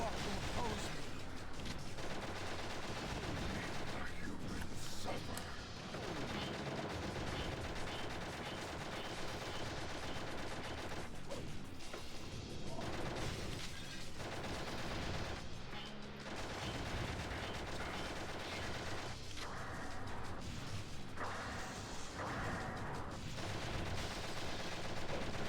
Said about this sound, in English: And I'm shooting it a lot.